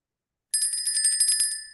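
A bright bell, like a bicycle bell, trills rapidly and continuously after a moment of silence, rung to mark a trade entry.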